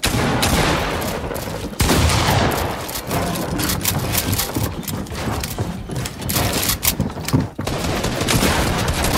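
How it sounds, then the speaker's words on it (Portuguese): Dense, rapid gunfire rattles almost nonstop, with loud overlapping bursts and shots from a Fortnite battle. "Mano, é só tiro estranho."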